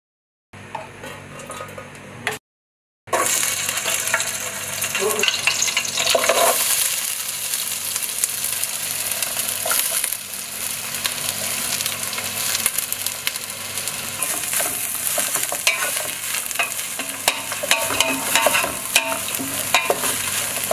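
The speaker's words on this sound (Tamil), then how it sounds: "ஆனியன் நல்லா ப்ரௌனிஷா வந்துட்டு ஃப்ரை ஆகணும்." Sliced onions and chilli fry in hot oil with a steady, loud sizzle, stirred continuously with a utensil scraping the pan, after a brief quieter stretch and a short gap near the start.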